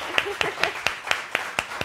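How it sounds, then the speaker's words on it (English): A small audience claps for pastry chef Andy Chlebana in a single sparse, evenly spaced series of about eight sharp claps, close by and fairly quiet. "how about one more round of applause for Andy?"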